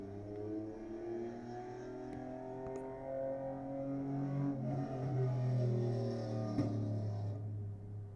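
Exhaust of an old jalopy car, a low, rough rumbling drone with a wavering pitch that swells slightly midway, heard close and alone.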